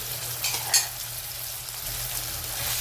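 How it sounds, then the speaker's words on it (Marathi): Coarsely crushed garlic sizzles and fries in a pan with tomatoes and spices, a steady close frying hiss with a brief stir clatter near the start and no talk. "आता लसण टाकलेलं आहे, थोडंसं लसणाला पण परतून घेऊ।"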